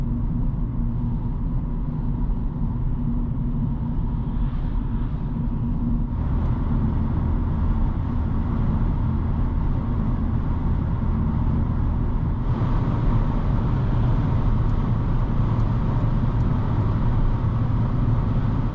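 Steady, loud low-frequency road and engine rumble inside a 2002 VW Sharan with a 2.0 petrol engine (115 hp) while driving, broadband wind and tyre hiss rising partway through as speed builds, with no talking.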